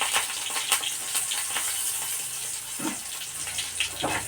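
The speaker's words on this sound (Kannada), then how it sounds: "ಸಾಸಿವೆ ಜೀರಿಗೆ ಹಾಕ್ಬೇಕು ಆಮೇಲೆ ಒಂದು ಸ್ವಲ್ಪ ಹಸಿಮೆಣ್ಸಿನ್ಕಾಯಿ ಒಂದೇ ಒಂದು ಮೆಣಸಿನ್ಕಾಯಿನ ಹಾಕ್ತಿದ್ದೀನಿ" Mustard seeds, cumin and a single green chilli crackle and sizzle in hot oil, a steady close frying hiss with scattered pops and a brief stir partway through.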